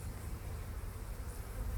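A faint, steady hum of many honeybees buzzing together in a hive, soft and continuous, with no voices.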